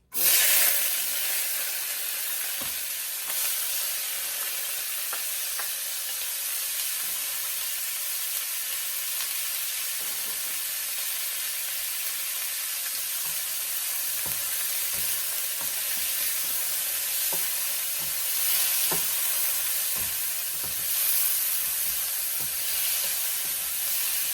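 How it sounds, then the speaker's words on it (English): Onion, tomato and scallion saute in a hot pan as the base for salt mackerel run down, making a constant loud hiss and sizzle with faint scattered crackles, close by and with no voices. "saute, you just saute it a little."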